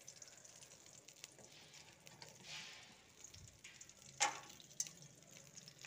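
Spices sizzling in hot oil for a tempering, a steady close frying crackle with a couple of sharper pops and a brief surge as something is stirred in.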